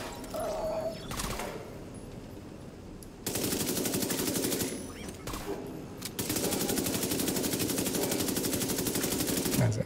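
Rapid automatic submachine gun fire in a shooter video game, sustained bursts loud and close with brief pauses between volleys, no talking.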